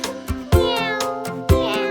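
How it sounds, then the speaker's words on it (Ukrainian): Repeated meowing calls in a Ukrainian children's song about animal sounds, several in a row, riding over a bouncy, rhythmic musical backing. "Кішка няв"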